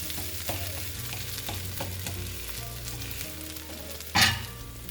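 An adai dosa frying on a pan gives a steady soft sizzle, punctuated by repeated scraping and stirring knocks of a spatula and a sharper clatter near the end.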